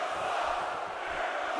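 A wrestling arena crowd in the WWE 2K17 video game roars as a steady, dense wash of noise with no pauses.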